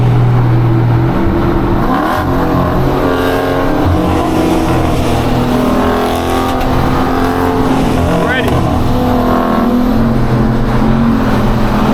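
Several performance cars, including a Scat Pack, a 5.0, a BMW and an SS, rev and accelerate hard in a street race, their loud engines droning steadily throughout with shifting pitch as people talk over them.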